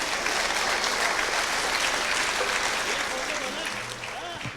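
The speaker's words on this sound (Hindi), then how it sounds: "ज़ोरदार तालियों से उनका स्वागत एक बार किया जाए" A crowd at an Independence Day event with Air Force personnel gives Sunny Deol sustained applause as he comes on stage, thick and continuous throughout and easing only slightly toward the end.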